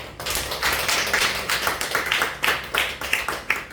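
Church congregation in a Korean Sunday worship service clapping for a member who brought rice cakes, a run of distinct, fairly quick claps in a roomy hall, moderately loud with no talk over them.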